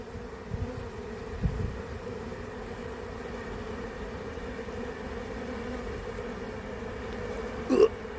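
Honeybees bring pollen into a hive, and their steady, close buzzing drone fills the scene. A brief louder burst of buzzing comes near the end, with no talking.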